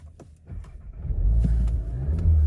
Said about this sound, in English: There you go, car starts and runs.